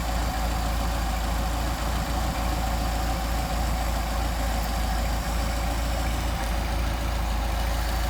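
Engine idling at about 700 RPM while its Solex carburetors are synchronized, a steady loud mechanical drone with faint regular ticking, close and continuous with no talking.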